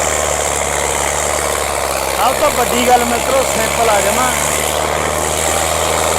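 A non-turbo Sonalika tractor pulling a loaded trolley runs with a steady, loud, low engine drone throughout, while someone talks over it.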